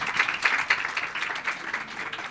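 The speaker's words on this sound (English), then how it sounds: "let's give them a huge round of applause" An audience claps for two women on stage at a Miss Soweto finalists empowerment event, steady, fairly loud and continuous for the whole moment with no talking.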